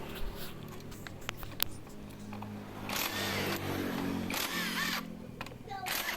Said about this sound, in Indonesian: Kebetulan di sini pakai impact dan mempercepat untuk pembukaannya